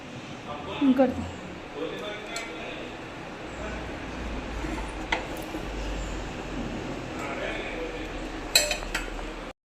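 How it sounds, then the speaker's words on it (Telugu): Dishes clink as cooked food is transferred into a bowl in a home kitchen, a few sharp metallic and ceramic taps early on and near the end over low background hum, with a voice talking throughout. "ఇప్పుడు ఇది నేను ఒక గిన్నెలోకి తీసుకుంటున్నాను"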